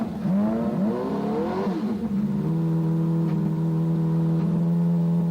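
A 1992 Lola turbocharged Indy car engine warms up: a loud, close rev that climbs and falls, then a steady, high-pitched hold at elevated revs.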